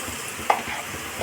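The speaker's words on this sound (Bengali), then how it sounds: "উচ্ছে ভাজা খানিকটা হয়েছে" Bitter gourd frying in a pan, a soft sizzle with two brief scraping stirs of the spatula.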